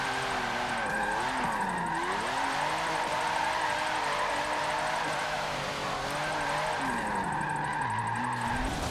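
A car drifts on a race track, the engine revving and wavering through slides with tire squeal over it, loud and close throughout before dropping off at the end.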